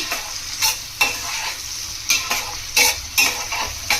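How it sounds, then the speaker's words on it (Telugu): Fish pieces frying in a pan toward golden brown, a loud sizzle broken by regular scraping stirs about every half second to second, close and without speech. "ఇవి కొంచెం గోల్డెన్ బ్రౌన్ కలర్ వచ్చే వరకు ఫ్రై చేసుకోవాలి."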